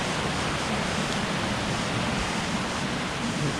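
A park creek flowing at night, a steady broadband rush of running water, continuous and fairly close with no other sounds over it.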